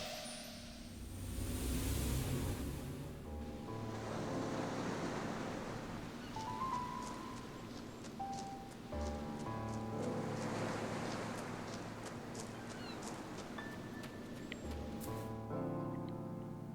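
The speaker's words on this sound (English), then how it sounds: "the waves hitting the shore" Waves wash onto a shore in the video game Folklore: broad, hissing surges that swell and recede in slow cycles. A faint tonal ambience sits underneath, and no voices are heard.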